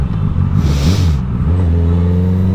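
A big motorcycle engine revs loudly close by, and its pitch dips and settles as it shifts up a gear without the clutch, a continuous throaty drone with no speech.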